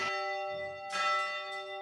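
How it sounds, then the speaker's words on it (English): A church bell from a 1904 church rings with a clear, sustained metallic tone, and fresh strikes land at about one second and one and a half seconds as the earlier resonance slowly decays. "The bell from the original church, built in 1904, is rung every Sunday."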